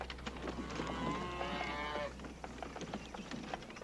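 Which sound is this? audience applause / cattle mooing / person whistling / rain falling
cattle mooing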